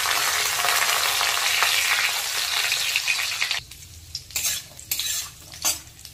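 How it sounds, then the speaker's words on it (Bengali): Raisins fry in ghee in a pan, sizzling loudly and steadily for several seconds. Then the sizzle drops away into quieter bursts of stirring and scraping. "কিশমিশটাও ভালো করে ভাজা হয়ে গেছে।"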